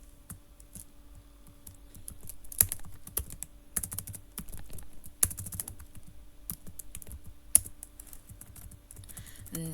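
Rapid clacking of a computer keyboard fills the clip as HTML code is typed, with irregular bursts of keystrokes and a few louder taps over a quiet electrical hum.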